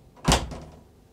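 A bathroom door in a Dethleffs Nomad 760 DR caravan swings shut with a single close, solid thud and a short latch click, followed by a brief fading rattle, with no talking.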